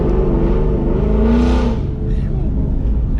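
An S550 Mustang with a Corsa Extreme catback exhaust and a Circle D torque converter gives a loud, deep exhaust rumble that swells briefly in a rev and then settles, heard up close.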